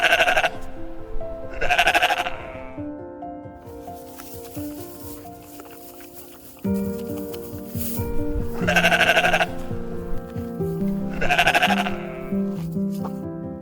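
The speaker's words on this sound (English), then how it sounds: "gently touch the friendly white sheep that roam the farm" Several sheep bleat loudly and fairly close on a farm with mountains nearby, sounding in separate bursts around a steady low hum of other farm background, with no talk.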